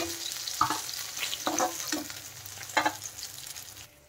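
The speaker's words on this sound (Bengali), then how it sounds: "এইভাবে আমি সব মাছগুলো ভেজে নেব।" Pieces of rohu fish fry in a pan with a continuous crackling sizzle, broken by several sharper clatters and stirring noises.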